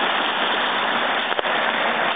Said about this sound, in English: Now this is a little stream that comes down just behind the dam.